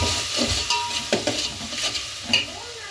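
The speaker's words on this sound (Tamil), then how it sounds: "இஞ்சி பூண்டு பேஸ்ட் போட்டேன்." Ginger garlic paste sizzles in a hot pan for potato curry, a steady frying hiss broken by several sharp scrapes and clinks of stirring close by.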